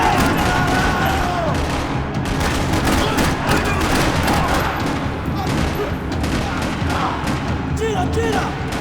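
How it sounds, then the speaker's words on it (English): Dense rapid gunfire in a parking lot in the video game Max Payne 3 crackles continuously, layered bursts and pops overlapping, with voices faintly shouting in Portuguese underneath. "Another parking lot rattling with gunfire."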